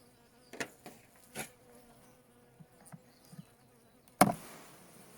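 Honeybees on a brood frame in a hive, giving short buzzing passes and faint scattered hums with a sharper close buzz near the end, quiet overall with no talk.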